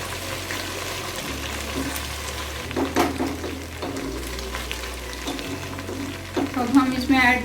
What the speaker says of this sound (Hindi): थोड़ी देर इसको फ्राई करेंगे।